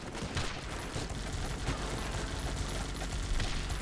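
Dense, fairly quiet video-game gunfire from a machine gun bunker and a sniper tower in Guns Up, with continuous rapid crackling bursts and no pauses.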